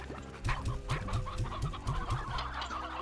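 Hens cluck repeatedly in Slime Rancher, a steady run of short, close clucks over a low ambient game background, with no talking.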